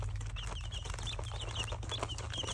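Young chicks in a brooder box give high, repeated cheeping calls over a steady low hum, close by and continuous.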